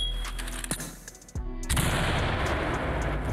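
In the tactical shooter game Ready Or Not, a thrown grenade goes off with a sharp blast followed by a sustained noisy rumble, alongside scattered gunfire-like cracks.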